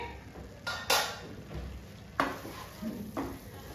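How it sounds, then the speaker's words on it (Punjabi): Spice masala for a peas and soy chunk curry fries over a medium flame, with a soft steady sizzle broken by several scraping strokes of a spoon against the pan. "ਇਹ ਮਸਾਲਾ ਬਹੁਤ ਵਧੀਆ ਤਰੀਕੇ ਨਾਲ ਭੁੰਨਿਆ ਗਿਆ"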